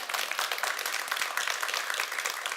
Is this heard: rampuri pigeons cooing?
no